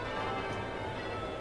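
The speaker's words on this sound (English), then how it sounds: "And all the bells start going off now as soon as we begin." Warning bells ring steadily in the cab of the Rail Head Treatment Train in Train Sim World 3 on Southeastern High Speed, a quiet continuous alarm tone over cab hum, with no talking.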